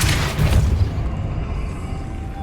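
Depulso force spell blasting in Hogwarts Legacy, a single loud booming burst with a deep rumble that fades over about two seconds.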